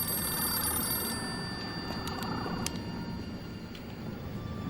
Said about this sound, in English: What am I supposed to do with a ringing phone?